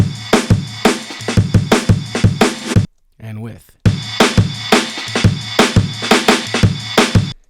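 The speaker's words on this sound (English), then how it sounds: "But I don't know what it is about the bottom snare that I absolutely love." Snare drum in a drum mix with the bottom snare mic boosted for snap and sizzle, hit in a steady, loud pattern of sharp close strikes with a brief gap midway where a faint voice speaks.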